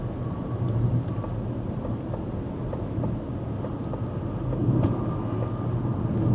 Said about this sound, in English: I'm going to get the car up to the speed limit and engage the cruise control